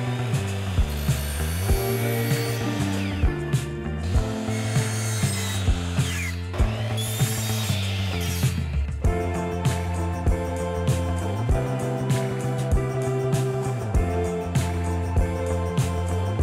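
Wooden bathroom trim being cut during a budget small-bathroom makeover, with a steady run of rasping saw strokes going on throughout, close and fairly loud, under a strong tonal music bed and with no talking.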